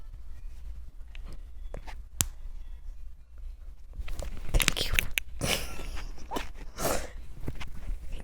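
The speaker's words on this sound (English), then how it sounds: "cracking her knuckles for you" Knuckles are cracked close to the mic for ASMR: several sharp, isolated pops and clicks, one clear crack early and a busier cluster of snaps later over soft background rustling.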